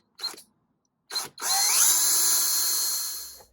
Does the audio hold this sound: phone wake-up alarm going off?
no